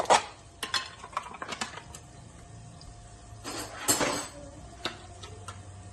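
Chicken being mixed with ginger garlic paste and curd in a bowl for a curry, with scattered clinks and scrapes of a utensil against the dish and a few louder stirring bursts over a quiet kitchen background.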